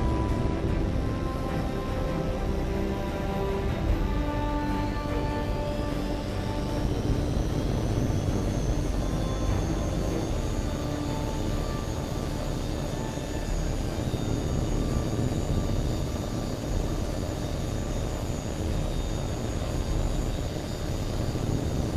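In the video game Tom Clancy's H.A.W.X 2, a fighter jet's engines hold a steady close roar and then spool up into a rising whine as it takes off, heard alone without talk.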